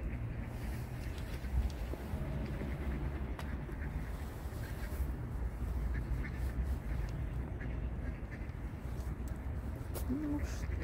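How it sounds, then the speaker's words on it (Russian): Ducks quack in Globa Park in Dnipro, their calls set in a steady outdoor hum of park ambience, with no close talking. "Утки."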